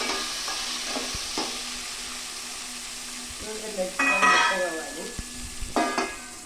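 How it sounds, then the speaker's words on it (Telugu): Dried red chillies with chana dal and fenugreek sizzling in oil, a soft hiss broken by occasional crackles and clinks, growing busier and louder toward the end, close by. "వేసి మిరపకాయలు కొంచెం చిటిపట రావాలి."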